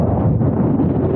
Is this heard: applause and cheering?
no